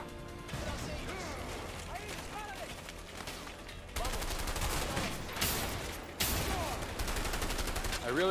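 Gunfire in the video game A Way Out: dense, continuous shooting with repeated loud bursts and crashes, punctuated by sharper blasts near the end, with people talking over the fight.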